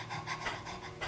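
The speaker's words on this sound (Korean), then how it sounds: "보시다시피 이 호흡은 짧고 빠른 복식 호흡, 보통 개가 헐떡이는 것 같은 호흡" Breath of Fire from Kundalini yoga: short, rapid, rhythmic panting through the nose with the mouth closed, several quick breaths in a row, close and fairly faint.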